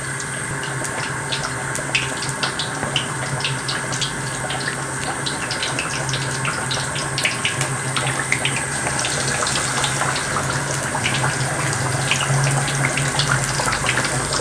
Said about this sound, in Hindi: और इसे दरमियानी आंच पर फ्राई करना है